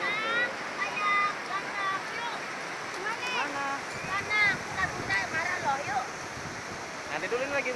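Waves washing in on Kuta Beach in Bali, a steady broadband surf wash running throughout while people talk and call out over it nearby.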